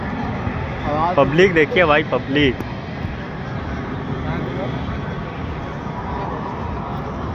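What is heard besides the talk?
fighter jets flying over at an air show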